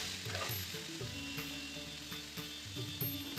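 Ginger, eight or nine garlic cloves and coriander leaves sautéing in a pan, giving a continuous close sizzle with occasional light stirring knocks.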